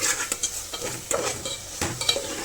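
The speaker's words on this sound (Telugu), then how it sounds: "1/2 టేబుల్ స్పూన్ ఆఫ్ పసుపుని కూడా యాడ్ చేసి కలుపుకుందాం." Turmeric stirred into a tamarind-based colocasia curry in a pan, a soft simmering sizzle broken by repeated spoon scrapes and light clinks against the metal, close and without talk.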